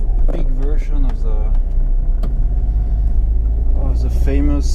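A 1990 Honda Acty Street G van with a manual gearbox drives out of a parking lot, its engine rumbling low and steady close by while a person talks over it.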